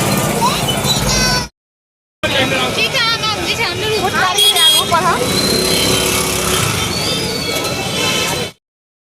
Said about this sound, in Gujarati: અહીંયા રામનવમની તૈયારી રેલી નીકળી છે બાઇક રેલી